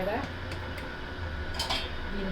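A metal lid is set onto a pan while paneer chenna parota cooks in a home kitchen. A few soft clinks of metal sit over a steady low background hum.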